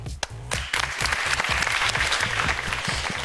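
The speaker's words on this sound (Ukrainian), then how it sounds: "Ці оплески вам будьте сміливими і перемагайте!" A television studio audience at a talent show taping applauds steadily, dense clapping sustained throughout at close range with no pauses.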